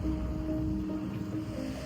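Calm sea at São José da Coroa Grande beach in Pernambuco, a steady low wash of surf under a faint hum of wind, with no voices.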